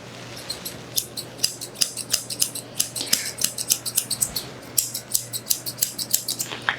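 Grooming scissors snip a dog's coat into a lamb clip chest line in quick, crisp, regular cuts, with brief gaps between runs, over a faint steady hum. Nobody speaks.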